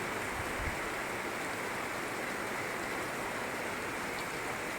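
Steady rain pours onto a street, a constant hiss of falling water with no pauses.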